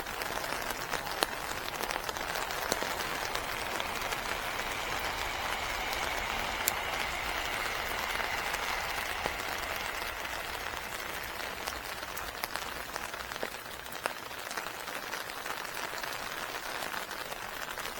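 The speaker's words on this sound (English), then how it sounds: "Fortunately the rain's coming down vertically, not at an angle." A steady shower of rain falls straight down over a car park pool, a dense, even hiss of drops pattering on surfaces close by, continuous and unbroken with no talk.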